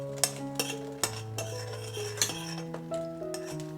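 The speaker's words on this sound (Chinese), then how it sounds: "在锅里面加1勺的猪油" Metal utensil scraping and clinking against a wok as a spoonful of lard goes in, several sharp ringing taps over about four seconds, close and clear with no voices.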